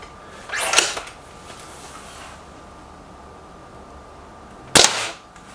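An air rifle, a Remington War Hawk or SMK XS36, fires two sharp, loud cracks several seconds apart at close range, each with a short metallic tail, and no one speaks.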